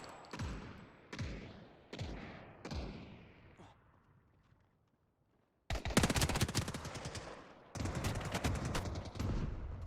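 Gunfire from a gun in the video game Ascendant: four single heavy shots with decaying tails, a short quiet gap, then two loud rapid automatic bursts, close and sharp.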